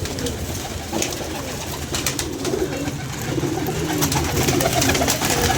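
Pigeons cooing amid a busy outdoor background, low throaty coos that come and go over a continuous noisy wash.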